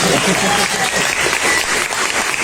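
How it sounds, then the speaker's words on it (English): A dense, loud burst of audience applause at an open mic reading, steady and full throughout with faint crowd noise mixed in. "one more time for Max, who's not a first-time reader"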